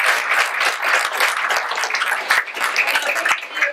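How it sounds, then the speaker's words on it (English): A crowd at an outdoor Memorial Day service claps steadily for the children. Dense, continuous applause lasts the whole stretch, loud and fairly close, with no talking over it. "If everyone could give a round of applause to the kids who are"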